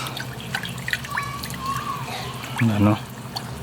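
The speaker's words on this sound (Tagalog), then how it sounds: "Tapos magdadagdag tayo ng konting tubig." A small amount of water is added to a cooking pot of chicken with lemongrass and coconut milk, a soft trickle and a few drips that swell into a brief gurgling pour near the end, with a voice speaking over it.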